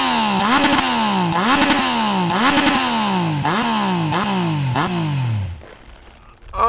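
A turbocharged Yamaha Niken three-wheel motorcycle engine roars loudly through a series of sharp, rhythmic revs, each climbing then dropping in pitch, before cutting out abruptly near the end.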